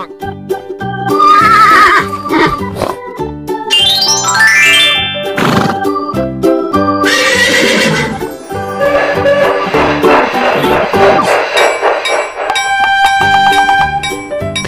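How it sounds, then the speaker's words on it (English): A cartoon-style horse neighs with a loud, rising-and-falling whinny over bright animated background music with jingling bells, the call standing out clearly near the start and repeating amid the tune. "Horse."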